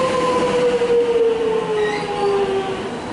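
A long train horn note echoes down a railway tunnel near Boronia, Melbourne, sliding slightly lower as it fades over a loud rumbling rail background.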